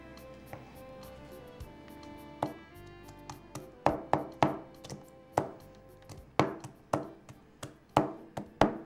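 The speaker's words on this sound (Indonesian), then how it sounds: "Lubuk merah sudah dipotong, dibelah, dihiris dan dicincang." Red chillies being chopped on a board in a kitchen, a few scattered knife strikes that become a quick, close run of sharp chops.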